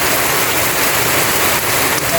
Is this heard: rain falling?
yes